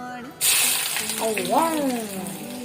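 Onion pieces drop into hot coconut oil in a clay pot for a prawn curry, setting off a bright, steady sizzle that runs continuously under a person speaking.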